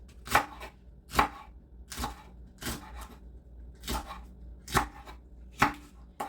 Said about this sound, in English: It's gonna be kind of loud in the video. I'm sorry with the chopping.